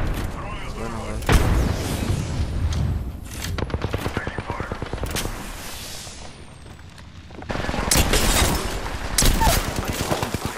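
Frag grenade thrown and detonating in Apex Legends, heard amid a busy stretch of loud gunfire bursts and heavy blasts, with several sharp explosive peaks across the clip and a player talking over the action.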